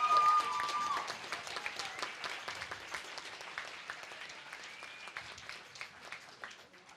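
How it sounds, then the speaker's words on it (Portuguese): Applause for the debaters at the final of a debate tournament, starting strong and slowly fading over several seconds, with a voice briefly heard at the start. "Então, uma salva de palmas para vocês,"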